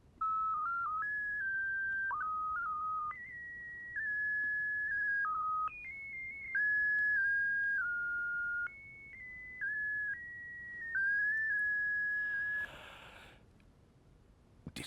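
A person whistles a stepped sequence of steady pitched notes, each held briefly before jumping to the next, clear and alone for about twelve seconds before a short soft breathy burst and silence.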